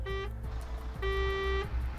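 Two long, loud blasts of a truck horn in a truck driving video game, steady and buzzy, separated by a short pause over a low engine drone.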